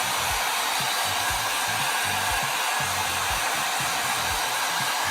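Steady broadband roar of a heat gun warming vinyl wrap on a Porsche tail light, a continuous close blowing hiss held for several seconds with no talk.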